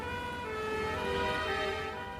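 An ambulance siren wails loud and steady with a sustained tonal pitch, joined by the low rumble of a road vehicle.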